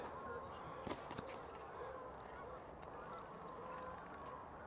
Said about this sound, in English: I don't know if you can hear those geese.